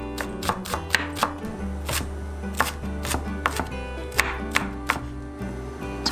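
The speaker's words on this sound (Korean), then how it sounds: "대파 반뿌리 다져주세요." Half a green onion is minced with a knife on a cutting board: quick, uneven runs of sharp, close chops with short pauses between bursts.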